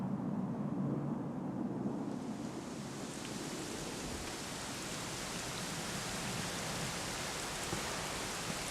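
Steady rain falls in the Dragon Quest XI S video game, a soft, even hiss of broadband noise that thickens after a couple of seconds and stays constant and faint with no voices.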